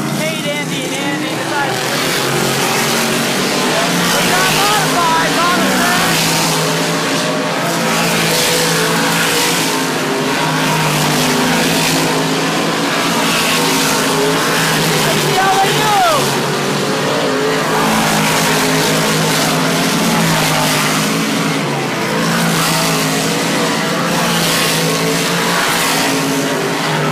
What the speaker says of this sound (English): Sportsman division is coming up on the track, led by the Team Goey Dodge Ram 1500